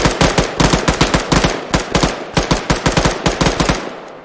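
Rapid bursts of machine gun fire in the Arma 3 military game, a loud close string of sharp shots in quick rhythmic succession laid down as suppressing fire, tapering off near the end.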